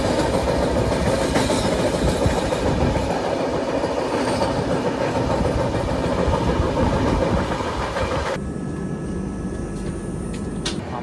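The Gitanjali Express passenger train, number 12859, rolls along with a continuous loud rumble and rail clatter that holds steady, then thins abruptly near the end.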